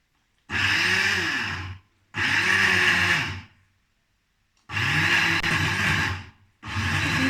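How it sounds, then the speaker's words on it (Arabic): A blender grinds amlou ingredients with honey and argan oil in four loud, close bursts separated by short pauses, each a steady whirring motor roar that cuts off sharply. "نطحن هاد المكونات هادو"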